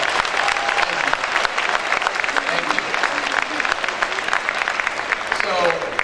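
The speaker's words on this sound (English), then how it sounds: "let's give Angelo a round of applause" Audience at a round table and auction event gives a round of applause, sustained dense clapping with scattered cheers and voices mixed in, holding strong for the full stretch.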